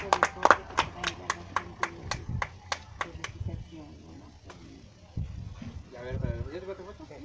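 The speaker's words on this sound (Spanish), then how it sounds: "Aplauso para Andrea" Sharp, rapid hand claps at a municipal chess tournament prize ceremony in Mala ring out in a quick burst for a young winner, then fade as people talk and murmur nearby.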